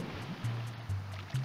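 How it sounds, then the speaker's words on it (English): Mario drops into the water in Super Mario 64's Hazy Maze Cave, heard as steady game water ambience with low, looping splashy tones and bubbling pulses, fairly quiet and with no talk over it. "I fell into the water"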